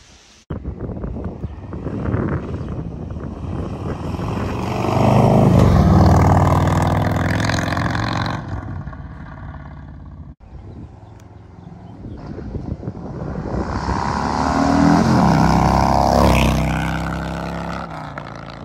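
A 2022 Harley-Davidson Road Glide with a Tab Performance 50 Cal slip-on exhaust roars past on the road in two loud surges, the engine swelling close and then receding, with heavy wind buffeting the microphone.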